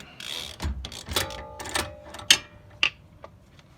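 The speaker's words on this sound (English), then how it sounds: "So we'll go ahead and remove our jam nut." A wrench loosens a jam nut on a Toyota Camry steering linkage, making a close series of ratcheting clicks and metallic taps. Two sharper knocks stand out near the end, with no talking.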